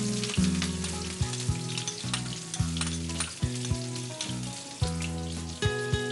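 Onions fry in a pan in a television studio kitchen, with a loud, steady sizzle and regular scraping knocks from stirring, over a faint tonal background.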